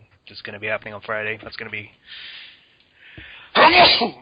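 A sneeze bursts out loudly and close at the end of a podcast conversation about a shop Christmas dinner, following a stretch of casual talk.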